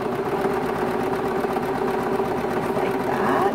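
A sewing machine machine-quilting the layers of a T-shirt quilt, running with a steady, close, continuous mechanical whir and fine rapid needle rhythm the whole time.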